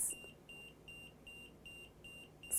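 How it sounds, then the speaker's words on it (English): An EMF reader emits a steady run of short, evenly spaced electronic beeps, about seven in under three seconds, close and clear over a low hum, as a cell phone call is in progress nearby. "now that my EMF reader is on, we can actually see that this is"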